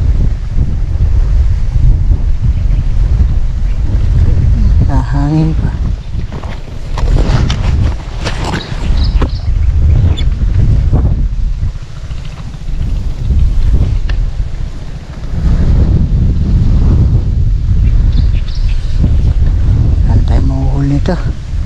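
Strong wind buffets the microphone in a constant low roar, with waves or surf washing underneath and occasional voices breaking through.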